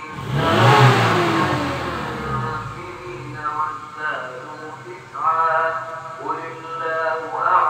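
A Suzuki Escudo carburettor engine, freshly cleaned and tuned up, revs repeatedly, its pitch climbing and falling in several surges after a loud initial roar.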